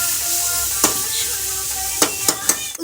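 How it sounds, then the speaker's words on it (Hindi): Onion pieces and a cinnamon stick sizzle steadily in oil in a kadhai, close and continuous, with a few sharp clinks of a stirring spoon against the pan and no talk. "उसमें एक दालचीनी का टुकड़ा मिला दी और कांदा मिला दी।"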